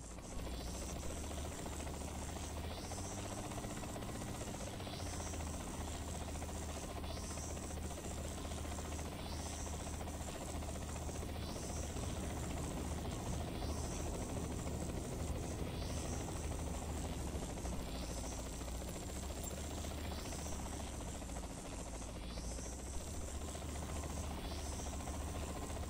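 Helicopter flying in a video game, a steady droning rotor hum with a faint rhythmic chop that holds throughout at an even level.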